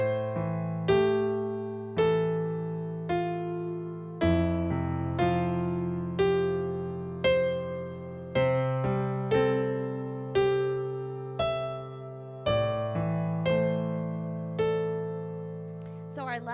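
A piano plays a steady left-hand arpeggio under changing chords, each chord struck anew about every second with a decaying ring. The rolling pattern is loud and clear, with no talking over it.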